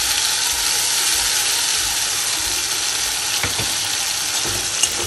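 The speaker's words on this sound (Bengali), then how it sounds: "কালো জিরে ফোড়ন দিয়ে মশলাটা দিয়ে দেবো, ভালো করে কষিয়ে নেবো মশলাটা" Spices fried in hot oil with a black cumin tempering, giving a loud continuous sizzle close by with a few scraping stirs near the end, no voices.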